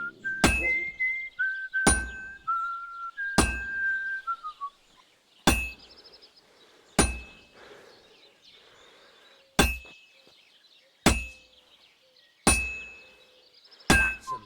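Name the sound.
character whistling while hammering, video game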